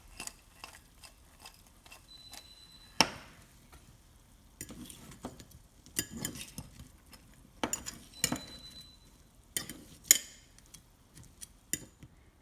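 A spicy snack mix is stirred in a pan, with a spoon scraping and clinking against metal in short irregular strokes over a faint sizzle, close and fairly quiet, with no talking.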